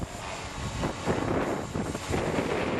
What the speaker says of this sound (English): There's a strong gust, dude.